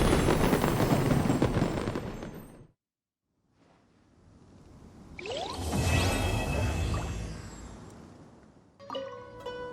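Fireworks at the Lantern Rite festival in the video game Genshin Impact: a loud whooshing roar, a brief silence, then rising whistles and crackling bursts swelling again before fading into chiming tones.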